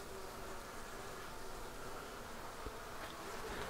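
Honey bees buzz steadily around an observation hive being set up with brood, pollen and capped honey, a faint, continuous close hum with no voices.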